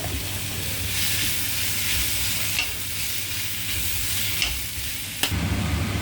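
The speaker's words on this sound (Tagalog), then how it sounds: "Lagyan natin ang beans. Sunod ang giniling." Beans and ground meat fry in a pan with a constant close hiss, broken by occasional scrapes and knocks of a utensil as the mixture is stirred.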